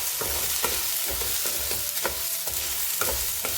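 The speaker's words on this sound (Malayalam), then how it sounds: "ആ ചെറുപയർ കഴുകി വെള്ളമെല്ലാം വാർന്നു പോകാൻ വെച്ചിട്ടുണ്ട്, അതുകൂടെ ഇട്ട് വറുത്തെടുക്കാം" Washed green gram being stir-fried in a pan gives a continuous sizzle broken by regular scraping strokes of a spoon, close and fairly loud with no voices.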